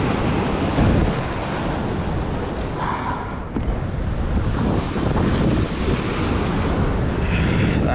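Ocean waves breaking against the Seal Beach jetty, a loud continuous surf roar swelling and receding with heavy wind buffeting the microphone throughout.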